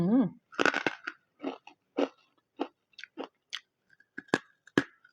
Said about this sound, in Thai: กรอบจริงค่ะ ไม่ใช่คอนเทนต์นะคะ เนี่ย กรอบกรอบเลย มันม่วง